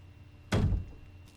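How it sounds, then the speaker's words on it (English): A locked door in the Resident Evil video game gives a single dull, close thunk as it refuses to open, then the sound fades quickly into quiet. "Yeah, cause this is just a locked door."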